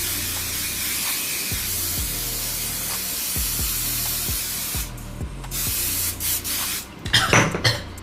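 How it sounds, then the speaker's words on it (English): Holding spray misted onto a half wig's hair during curl styling, a steady hiss in several bursts, close and clear, with faint rustling and handling noises afterward. "I'm just gonna stack this hair with some holding spray."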